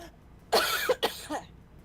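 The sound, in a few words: coughing after saliva went down the wrong way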